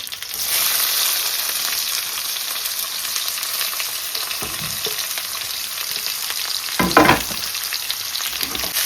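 Onions sizzling in hot oil with green chillies while tomato rice is prepared, a steady loud frying hiss with a brief stir and clatter near the end.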